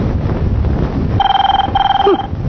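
A telephone in a 1994 Telugu film rings in two electronic bursts of rapid trilling tones, loud and close, over a low background hum.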